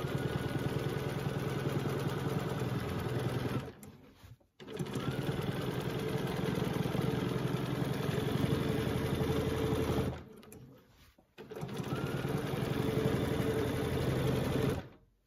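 Free-motion quilting S-curves on a sewing machine, with rapid close stitching that runs in three long loud bursts and stops briefly twice between them.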